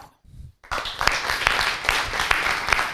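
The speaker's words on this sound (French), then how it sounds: "De l'énergie dans les applaudissements, s'il vous plaît." An audience applauds a contestant at an eloquence competition final in Le Mans, with a brief quiet gap before steady clapping breaks out and builds.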